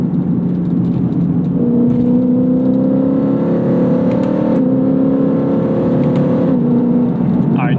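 A track-prepped Lexus IS F sedan's engine pulls hard on track, steady revving tones climbing and then dropping sharply at several quick gear shifts, loud and close from inside the car.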